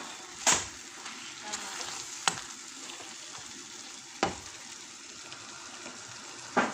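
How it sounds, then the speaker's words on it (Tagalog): Shimeji mushrooms hitting a hot pan, a steady soft sizzle with a few sharp clattering bursts as pieces drop and are stirred. "laglag na natin ang shinichi mushroom or beach mushroom"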